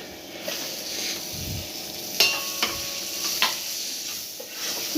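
Chopped tomato hits a hot pan of kadala roast with a steady close sizzle, broken by a few sharp stirring scrapes and clinks.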